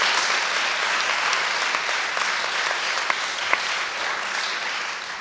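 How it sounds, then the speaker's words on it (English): Steady applause from a crowd at the 2017 Gold Awards ceremony honoring award winners, sustained and fairly loud throughout with a few sharper claps standing out near the end. "let's give another round of applause for all of our Gold Award winners"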